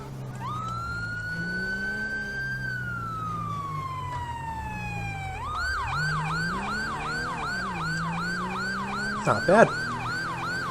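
A police car siren in GTA V modded with LSPDFR sweeps in a slow rising and falling wail, then switches to a fast yelp, loud and close, with a brief spoken comment and a short thump near the end.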